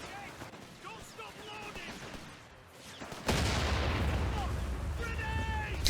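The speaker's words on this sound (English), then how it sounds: "It's a grenade!" A grenade goes off during a real-time strategy battle, bursting in loud and sudden partway through, followed by sustained heavy gunfire and booming blasts, with faint sounds of earlier skirmishing before it.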